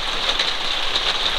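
Heavy rain pours onto a parked van in the UK, a dense, loud, continuous hiss and patter of drops with no pause and no voices over it.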